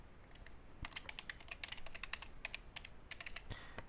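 Rapid, irregular keystrokes on a computer keyboard as a password is typed, close and clear with a steady clatter of light clicks and no talking.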